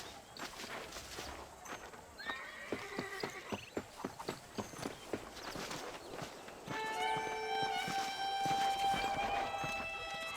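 Horse hooves clip-clop steadily in Red Dead Redemption, a rhythmic run of close hoofbeats that carries on under other game sounds, with a brief whinny.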